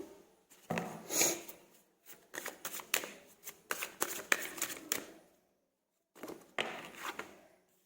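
Tarot cards are shuffled by hand in a quiet room, making soft, close riffling and sliding bursts in several irregular runs separated by brief pauses.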